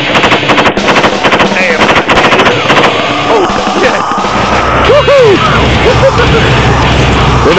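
Sustained machine gun fire in Iraq against IED trigger men during a route clearance operation, rapid loud bursts repeating throughout with shouted voices rising under the shooting.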